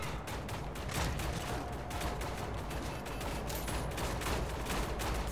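Continuous heavy gunfire from a rapid-firing weapon in Wolfenstein: The New Order, sustained dense bursts of shots, loud and close with no pause across the whole stretch.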